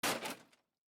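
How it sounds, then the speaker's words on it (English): A bedroom door flies open in a visual novel game, heard as a single quick, loud whoosh-bang that fades out within about half a second, isolated and without speech. "door to my room flies open"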